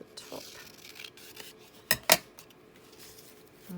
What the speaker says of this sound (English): I'm just going to cut this across the top.